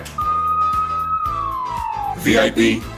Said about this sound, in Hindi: VIP हेलमेट में है पुलिस सायरन